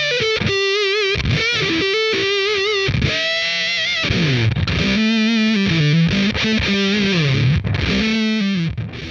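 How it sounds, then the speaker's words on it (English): Heavily distorted electric guitar through an Electro-Harmonix Big Muff fuzz pedal, playing chunky riffs and sustained bent notes, loud and saturated throughout. "The Big Muff is known for its grungy wall of sound distortion"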